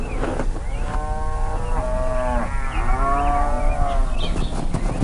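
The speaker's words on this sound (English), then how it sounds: "Each day, the cows wander to one of Vrindavan's 12 forests." Cows in the forests of Vrindavan moo loudly and close by, several long drawn-out calls following one another against a low rumbling outdoor background.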